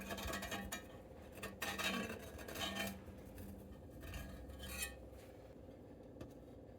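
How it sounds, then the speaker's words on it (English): A knife scraping and clinking around the edges of a baking pan to loosen an upside-down pineapple cake, with soft metallic scrapes and taps in short bursts close up. "I'm going to loosen the edges with a knife."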